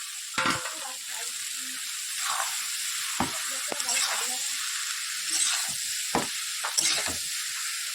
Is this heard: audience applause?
no